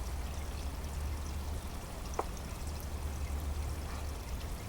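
An aquaponics bell siphon drains water in a steady, continuous rushing flow, with a brief clink partway through and no talking.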